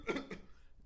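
A person imitates a coughing fit with their voice, three or four quick rough coughs bunched close together, fading toward the end and then cut off by a sudden sharp sound.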